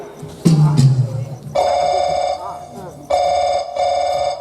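A mobile phone rings loudly in two repeated bursts of electronic ringtone, following a brief shout, during a Chhattisgarhi comedy stage play.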